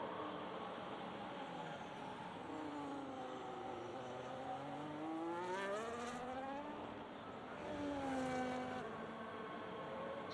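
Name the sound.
race car lapping Bahrain in a racing video game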